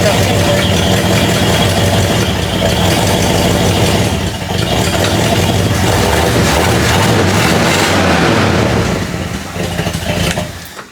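A 52-year-old vintage 1970s Jeep Wagoneer rumbles loudly up close as it drives under its own power, a steady low engine drone with slight dips, and voices talk over it.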